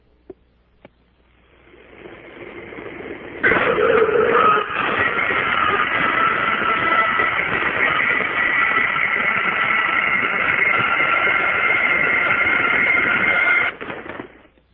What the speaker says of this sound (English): This is the sound of the freezer basically opening and the creature screaming and slamming the freezer down.